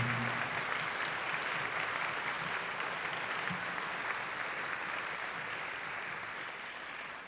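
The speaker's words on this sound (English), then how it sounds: "How about another round of applause for Jeff Bryant and for the campus band?" A large concert audience applauds a campus wind band, clapping steadily in a dense and even wash of applause that slowly fades a little toward the end.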